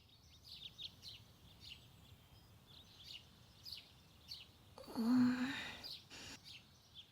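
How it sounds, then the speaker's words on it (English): Birds chirp at dawn in the visual novel Witch On The Holy Night, with scattered short tweets repeating throughout and a brief louder swell partway through. "I woke up to the sound of birds chirping."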